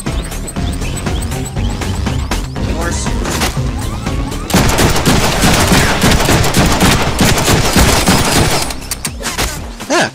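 Enemy gunfire in the Deadpool video game, dense and continuous bursts of shots aimed at the player, loud and close throughout, mixed with game music and effects.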